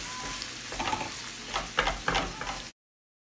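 Hamburger meat with chopped bell pepper scraps sizzles in a pan while a utensil stirs and scrapes through it, giving a few distinct close scraping strokes over a continuous frying hiss before it cuts off abruptly.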